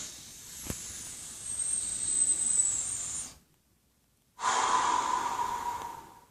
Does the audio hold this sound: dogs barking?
no